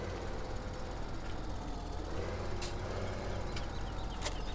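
A tractor engine in Farming Simulator 17, running as a steady, dense low rumble from start to finish, with a few brief high clicks or beeps heard over the top.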